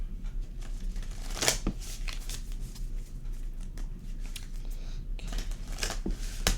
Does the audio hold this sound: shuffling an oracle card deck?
yes